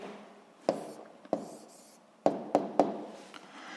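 Pen strokes on paper as an answer is written out: several short scratchy bursts separated by pauses, close and clear with no talking.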